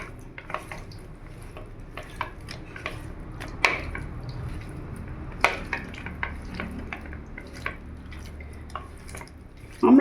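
Wet squishing and soft stirring as khoira fish pieces are mixed by hand with ginger, garlic and chilli paste in a bowl, with quiet clicks and occasional sharper knocks of a utensil or dish, close and steady, no talking.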